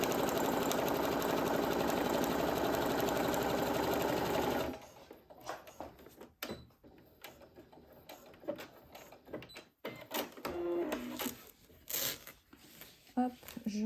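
A home sewing machine runs a steady, loud topstitch along a fabric-scrap patch pouch for about five seconds, then stops, leaving quieter handling clicks and rustles of fabric.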